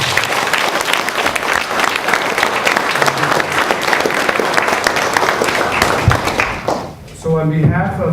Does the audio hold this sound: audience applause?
yes